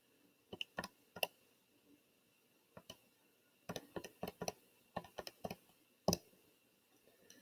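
Calculator buttons pressed in short irregular bursts of light plastic clicks, close and quiet, separated by brief pauses.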